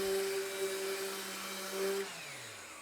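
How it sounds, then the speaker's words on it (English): A finish sander buzzes steadily while sanding glue residue off a repaired mortise in wood, a faint whining drone that cuts off and winds down near the end. "we're going to take a finish sander here and just sand over, make sure we get the rest of that glue out"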